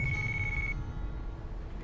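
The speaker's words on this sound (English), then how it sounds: "Okay, phone call." A phone rings in Yakuza Kiwami, a single steady electronic tone that rings briefly and then cuts off, heard over a quiet game background.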